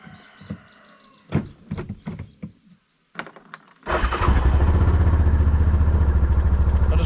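Yamaha Rhino 700 UTV side-by-side engine cranks and catches after some scattered knocks and clatter, then settles into a loud, steady close-up idle as it runs to warm up.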